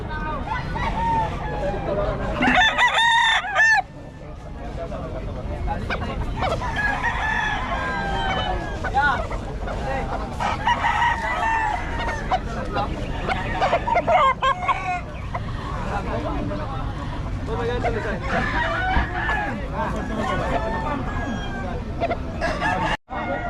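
Chickens and roosters crow and cluck at a busy poultry market, loud close crowing calls rising over a constant murmur of people talking in the background.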